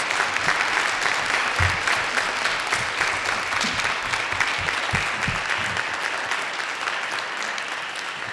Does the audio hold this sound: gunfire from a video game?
no